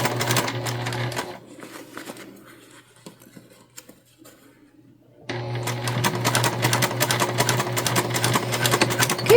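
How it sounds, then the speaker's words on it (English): A sewing machine stitches holiday fabric in a steady rapid whir, stops for a few seconds of quieter handling, then resumes running continuously and close. "Just make sure whatever you're sewing is flat in front of you, and you should be totally fine."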